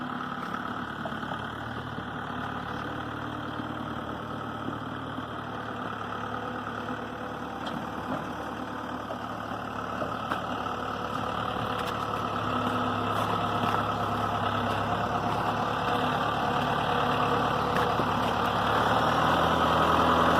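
A cab tractor engine idles steadily after grinding feed on a farm, a low droning rumble with a constant hum that swells slightly louder toward the end, with no talk.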